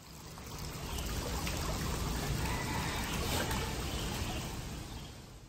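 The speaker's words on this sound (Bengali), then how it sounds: "এদিকে একটা কোথা থেকে ঝর্ণার আওয়াজ কানে আসছে" Waterfall flowing near a cave at Batu Caves, a faint, steady rushing of water heard from a distance that swells gently and fades slightly at the end.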